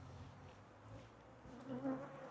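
Honey bees buzzing around a nuc hive, a faint, steady drone of many insects with a slightly louder swell near the end, with no talking.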